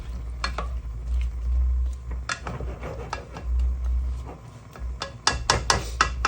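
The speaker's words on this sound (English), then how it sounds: "Let it cook until it's ready." Guyanese curry pumpkin simmers in a pot under a low rumble and soft sizzle, with scattered spoon taps and clicks that grow quicker and sharper near the end.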